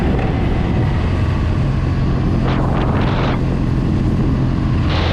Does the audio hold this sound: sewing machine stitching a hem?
no